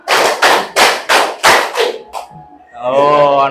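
A group claps in a counted pattern, six quick strong claps in a row, then a pause and a voice speaking afterward.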